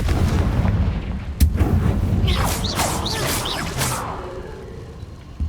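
A Confringo blast spell explodes in the video game Hogwarts Legacy, a sharp close boom followed by whooshing, crackling fiery bursts that fade over a few seconds against a low ambient rumble.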